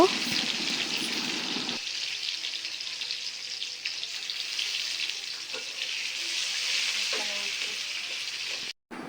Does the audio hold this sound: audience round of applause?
no